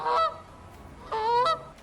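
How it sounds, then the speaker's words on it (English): A Canada goose gives two loud, nasal honks close by, each short and harsh, separated by a brief gap over faint background noise. "Another invasive species causing significant damage across North America is the Canada goose"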